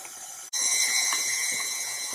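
An electric mixer beats cake batter for a raisin and honey glazed cake, a steady close mechanical whir that starts abruptly after a brief pause and keeps running evenly.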